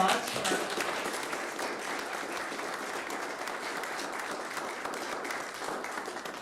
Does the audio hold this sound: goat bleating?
no